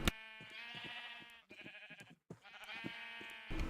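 Sheep bleat repeatedly from a farm in a video game, several drawn-out, wavering calls close by, broken by brief pauses, with no talk over them.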